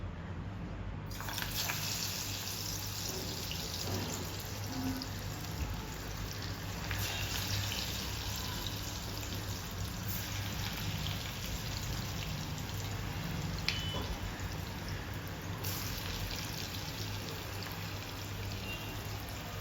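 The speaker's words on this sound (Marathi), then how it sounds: "तेल आपलं छान गरम झालंय आता आपण हे वडी जी आहे ती तळून घेऊयात" Coriander wadi (kothimbir vadi) pieces frying in hot oil, a steady dense sizzle and bubbling hiss that holds evenly throughout, close and constant.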